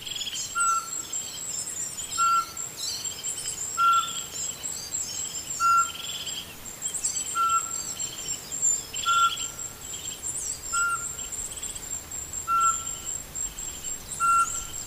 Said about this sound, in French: il s'agit de la grive musicienne. Ils se mettent à chanter tout ensemble.